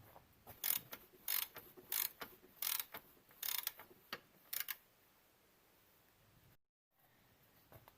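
A ratchet wrench clicking in quick repeated strokes while removing bolts from a Jeep XJ transfer case, close and crisp for about five seconds, then stopping.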